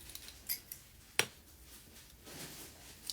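Scissors trimming knotted craft fishing line, a few quiet crisp snips spaced out over a few seconds, close up with no talking.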